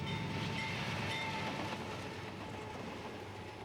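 A long coal train from Wyoming's Black Thunder Mine, bound for the Fayette Power Project in LaGrange, Texas, rolls past with a steady, low rumble and clatter, with faint horn tones over it and no voices.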